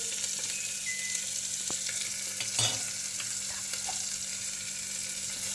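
Onion sautéing in a pan for Solapuri masala rice, a steady broadband sizzle and crackle running throughout with a brief spatula stir near the middle, close and moderately loud, no talking.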